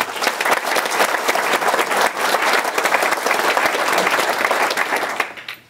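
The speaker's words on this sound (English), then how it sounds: "Please give them a round of applause." Round of applause from the audience at the Harlingen State of the City address, loud dense clapping from a full room that holds steady, then fades quickly at the very end.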